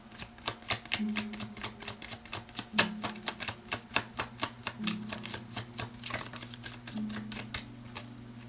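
Tarot cards being drawn and shuffled from a deck, giving a steady run of crisp, close card flicks and snaps at a quick, even rhythm with no talking.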